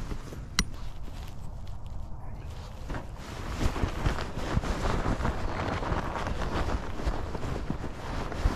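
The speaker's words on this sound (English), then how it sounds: "we got a good wind going right now" Gusty outdoor wind buffets the microphone beside a damp-wood campfire site in rainy weather, a steady rumbling roar that swells after a few seconds, with scattered footsteps and rustling close by.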